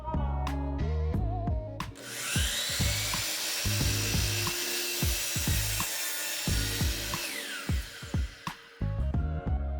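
A saw cuts wooden boards for an outdoor planter box, with a stop block clamped to the saw, producing a loud sustained rasping cut of about five seconds framed by shorter knocks and handling clatter.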